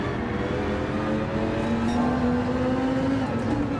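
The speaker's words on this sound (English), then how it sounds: "You can hear my car" A Dodge Viper GTS-R Gr. 3 race car engine in Gran Turismo 7 drones steadily and loudly from the cockpit, its pitch climbing slowly as the car accelerates, with no talk over it.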